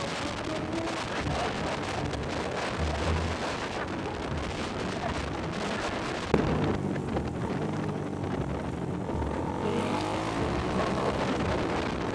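Street traffic rumbles past a handheld phone recorder, a continuous roar of passing vehicles mixed with buffeting wind noise and one sharp knock midway.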